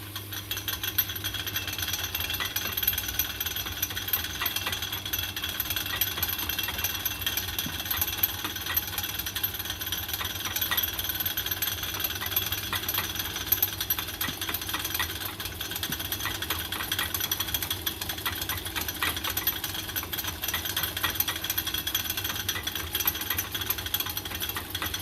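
An old lathe powered by a treadmill motor runs steadily and continuously, a constant mechanical whir mixed with a fine rattling buzz, close and unbroken throughout.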